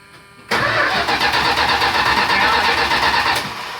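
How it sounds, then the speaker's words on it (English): A 1970 Plymouth Valiant engine cold-starts after a brief quiet moment: the starter catches and the motor bursts into a loud, rough, pulsing idle close by, easing slightly toward the end. "Cold start of a 1970 Plymouth."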